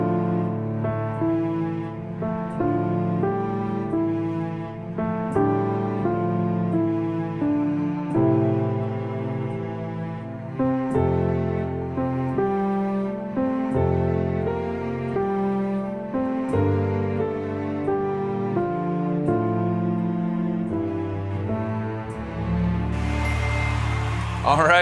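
Solo piano plays a piece, a steady stream of chords and melody notes rolling on continuously, close and full, without voices.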